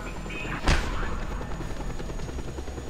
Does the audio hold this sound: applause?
no